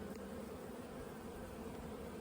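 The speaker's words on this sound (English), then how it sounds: "I can hear these bees. They sound very unsettled." Unsettled honeybees hum inside a hive, a faint, steady, continuous drone with no voices over it.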